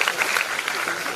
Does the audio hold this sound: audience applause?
yes